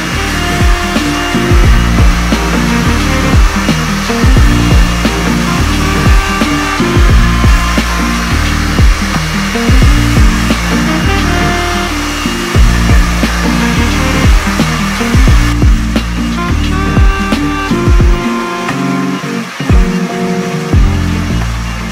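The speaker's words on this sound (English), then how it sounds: "I'm gonna finish my hair with the Dyson" A Dyson hair dryer blows steadily and loudly for the whole stretch, a continuous airflow roar with no talk over it.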